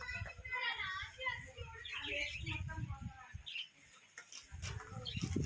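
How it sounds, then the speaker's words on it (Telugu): Lovebirds chirp and tweet in bursts of high, busy calls, with children's voices and nearby talk mixed in throughout. "లవ్ బర్డ్స్ చూడండి అక్కడ ఎట్లా ఉన్నాయో"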